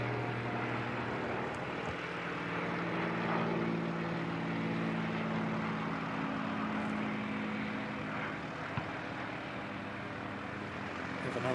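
Propeller aircraft passing overhead at Christchurch Airport, a steady broad engine drone with a low humming tone, sustained and fairly even throughout, heard from the ground at moderate distance with no talking.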